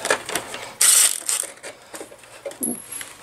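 A small metal washer comes off a 1966 Honda Benly CA95E motorcycle during work, giving a bright metallic clink and rattle amid scattered tool clatter and handling noises, close up, with no talking.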